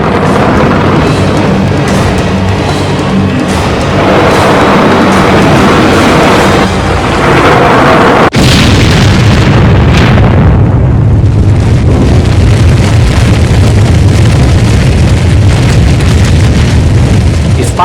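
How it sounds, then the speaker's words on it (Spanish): Massive warhead blast, a 500-kiloton detonation striking the White House, rendered as a continuous loud roaring rumble with a sharp crack partway through that sets off a deeper, sustained rolling boom. "La explosión de una ojiva de 500 kilotones en la Casa Blanca"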